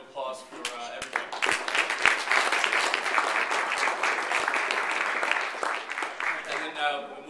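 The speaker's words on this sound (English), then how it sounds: "So one more round of applause for everybody." Audience applause at an awards event, a dense wash of many hands clapping that holds steady for several seconds with a few louder claps standing out, then tapers slightly at the end.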